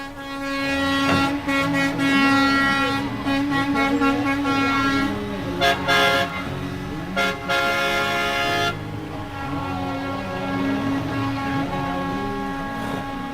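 Trucks in a 2022 roadside convoy sounding their horns, with long sustained air-horn blasts layered together and steady engine rumble underneath, loud and close for over ten seconds.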